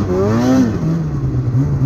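A snowmobile engine on snow revs up and down in a close, buzzy whine, rising and falling over a short burst.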